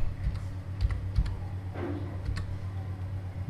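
Keys on a computer keyboard are tapped close up, with a few quick, light clicks spaced unevenly over a quiet room.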